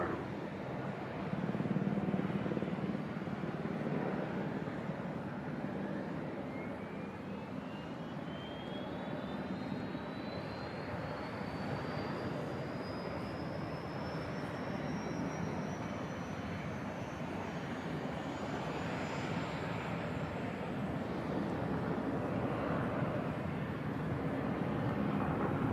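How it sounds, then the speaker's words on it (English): An aircraft makes a slow flyover with its landing gear down at the Farnborough airshow, a steady distant engine rumble with a rising whine that climbs gradually across the pass. "Aircraft's going to slow down to 120 knots."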